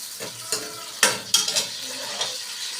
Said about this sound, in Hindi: मैंने घी कढ़ाई में डाल दिया और ये जी थोड़े से इसमें प्याज जो है ऐड कर दिए।